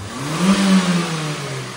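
A car engine revs up under load, a steady mid-low drone swelling near the middle and then easing, close and fairly loud with no talk over it.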